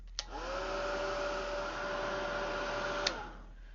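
A heat tool sets alcohol ink on a panel with a steady, loud blowing whir that runs about three seconds, framed by a click as it switches on and another as it switches off.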